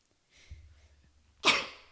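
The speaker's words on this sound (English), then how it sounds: "I feel like I have to sneeze." A single sharp sneeze after a soft intake of breath, close and fairly loud, then quiet.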